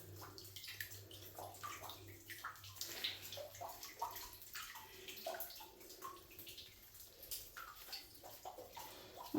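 Water dripping and trickling from the ceiling inside an old mine, a faint, steady patter of drops with soft splashing and gurgling echoing in the enclosed space.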